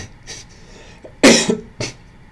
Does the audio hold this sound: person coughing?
yes